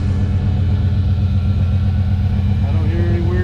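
A Chevy Silverado engine idles steadily right after a lifter, valve spring and cam swap. The low, even motor hum runs close and constant, and a voice speaks briefly over it.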